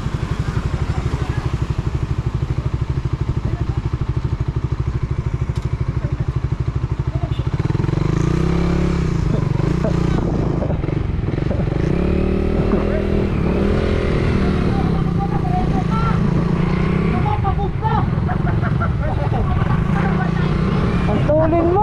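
A Suzuki Raider 150 and a Yamaha Sniper 155 race on the road, their small engines droning loudly and close by with shifting revs and a rising, more intense pitch midway, under wind rumble.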